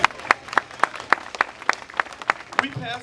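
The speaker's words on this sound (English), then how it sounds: "We can get a clap for that one." Audience applause at a mayoral campaign announcement in Baltimore, heard as a short run of sharp, evenly spaced claps, fairly thin as if from a small or scattered crowd, fading out at the end.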